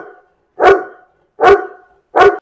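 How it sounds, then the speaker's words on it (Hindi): Dog barking three times in steady succession from a shop on a street, each bark loud, close and full, with silent gaps between. "तो अभी कुत्ते को अंदर बंद कर दिया है"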